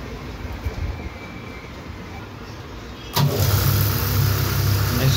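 A ceiling fan coil winding machine starts up with a sudden jump in level, then settles into a steady, loud mechanical whir and hum. Faint background noise comes before it.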